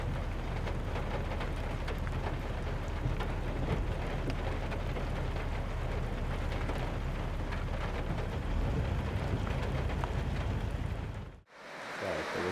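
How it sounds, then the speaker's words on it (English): Heavy rain falling during a hunting trip, a loud, dense, continuous patter and hiss throughout, broken by a brief dropout near the end, with no talk. "Wasn't for all this rain, right?"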